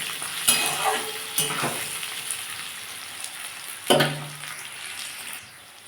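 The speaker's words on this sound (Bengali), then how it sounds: "আমার আলু পেঁয়াজ টমেটো সব দেখুন ভাজা হয়ে গেছে" Potatoes, onions and tomatoes frying in a pan give a quiet background sizzle, broken by a few sharp stirring scrapes and clinks, with no talk.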